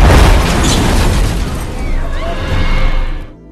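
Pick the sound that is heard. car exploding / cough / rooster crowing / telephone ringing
car exploding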